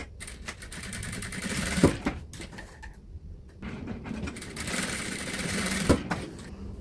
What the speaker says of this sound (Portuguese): agora eu vou fazer uma costurinha aqui, ó, pra segurar